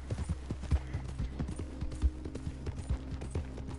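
Horse hooves clip-clop in Red Dead Redemption 2, a quiet, rhythmic run of close hoof strikes on hard ground with a couple of heavier thuds, heard alone without talk.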